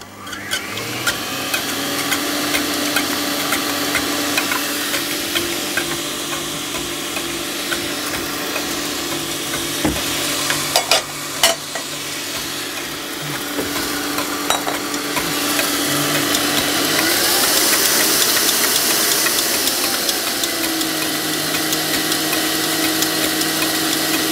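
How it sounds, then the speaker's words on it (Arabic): A stand mixer whips egg whites with no sugar yet until white and fluffy, a steady loud motor whir holding level throughout and rising slightly in pitch and volume toward the end, with no talk. "هنضرب البياض الاول بدون سكر ولما يبقى لونه ابيض وهش"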